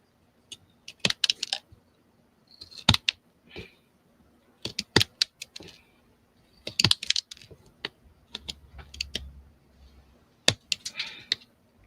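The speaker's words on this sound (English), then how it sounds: "So I'm going to use my fancy scissors here." Scissors snip through a thin wood veneer sheet during a small bathroom makeover with wood accents, a series of sharp, close cutting clicks in irregular bursts separated by quiet pauses.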